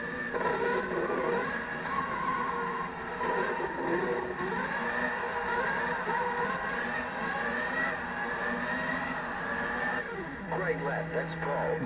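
A race car runs a lap, its engine note whining steadily and rising and falling through corners and shifts, with a voice talking over the car throughout.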